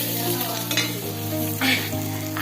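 Pabda fish frying in hot oil in a pan, a steady close sizzle with a few brief louder crackles and stirring bursts, no voices.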